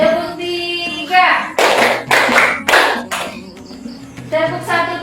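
Schoolchildren in a classroom clap a counted rhythm, three sharp group claps in quick succession, with a teacher's and children's voices chanting before and after.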